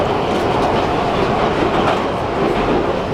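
A train rolls along its rails with a steady, loud rumble and a continuous clatter of the carriages that never lets up.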